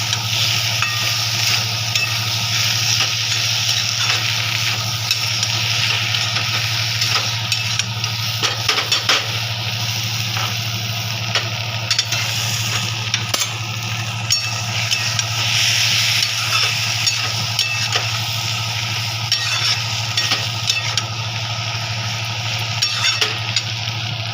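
Spices including cumin powder cook in a pan on low gas, a steady hiss with a constant low hum beneath and scattered faint stirring clicks and scrapes, close and continuous with no talking.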